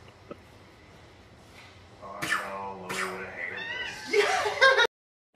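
A cat meows a few times, rising toward the end, with soft background noise and a brief cut at the finish.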